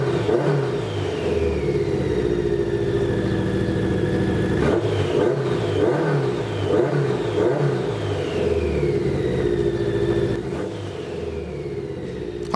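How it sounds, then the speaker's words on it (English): A 1986 BMW K100 cafe racer motorcycle engine idles loudly up close, broken by repeated quick throttle blips that rise and fall in pitch, with one clearer rev spike partway through and a rumbling drone throughout. "The speed of the blips that you see in the video is about how snappy I could get it to open up"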